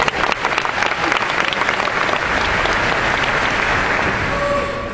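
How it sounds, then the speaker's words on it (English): A university debate audience breaks into loud, sustained applause, a thick roar of many hands clapping that stays strong throughout and tapers only slightly at the end. "restrain your applause, as I was rather alarmed to see you just did"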